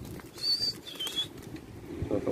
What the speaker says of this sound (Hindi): कबूतर उठा रहे हैं, आगे वाली पार्टी ने उठा दिए।